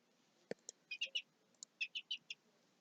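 Birds chirping outdoors, a faint series of short, sharp tweets in quick clusters with a single brief tap early on, against quiet background hiss.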